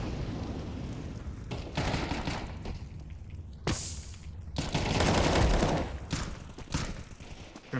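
Rapid AK rifle fire rattles through a competitive shooter video game, with several bursts and single cracks spread across the stretch, some close and loud, others more distant, with no talk.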